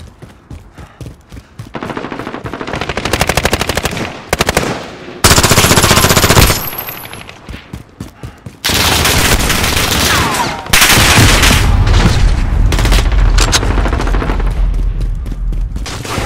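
Gunfire in Call of Duty Modern Warfare on the Piccadilly map: loud bursts of rapid automatic fire and single shots, broken by short pauses, then a long sustained barrage near the end.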